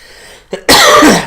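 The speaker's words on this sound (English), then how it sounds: "Clear my throat." A man clears his throat loudly and close up, a brief faint catch followed by one harsh, raspy clearing that lasts about half a second.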